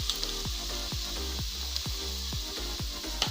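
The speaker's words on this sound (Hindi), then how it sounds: "अब उसमें हम मसाला डालेंगे।" Spices sizzle in a little hot oil for a chana masala, a steady close frying hiss with regular soft popping and crackling throughout.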